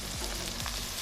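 Cumin seeds sizzle steadily in hot oil in a pan that already holds garlic paste and peas for a matar pulao, on a low flame. The frying hiss runs continuous and fairly close, with a couple of soft stirring thumps and no talking.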